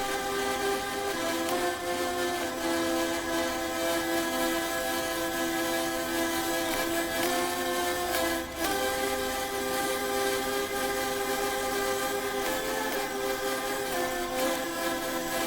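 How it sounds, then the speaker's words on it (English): Played continuously, a model wooden hurdy-gurdy gives off a reedy, buzzing drone with a shifting tune riding above it, loud and near, with no voices. "And so the model hurdy-gurdy sounds like this."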